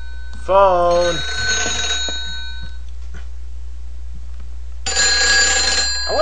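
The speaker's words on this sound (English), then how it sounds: "Phone." A telephone rings in the video game Silent Hill 3, a loud electronic bell in two distinct bursts separated by a stretch of low ambient game hum, with a voice heard briefly in between.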